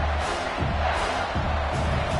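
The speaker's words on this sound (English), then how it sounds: "This crowd knows when to bring it." A football stadium crowd roars in a dense, continuous wash of cheering, loud and steady throughout the short stretch, with no clear individual voices standing out.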